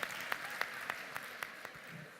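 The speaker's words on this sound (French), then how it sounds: "Applaudissez-vous si vous avez eu la bonne réponse." Faint, distant clapping at a quiz show in the Grand Rex, with sharp claps in an even rhythm about three per second over a soft hall background.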